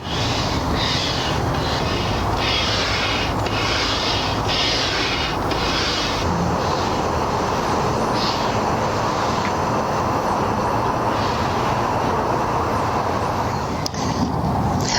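An electric pump inflates an Outwell Hornet XL air tent, a continuous loud whirring drone that runs steadily and close with no break.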